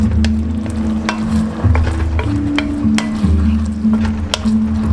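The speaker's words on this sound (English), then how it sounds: "we're going to let this simmer for anywhere from 1 to 5 minutes" Mushroom and eggplant sauce simmers in a pan with a steady, fairly loud bubbling sizzle, broken by faint spoon ticks and a low rumbling hum underneath, with no talk.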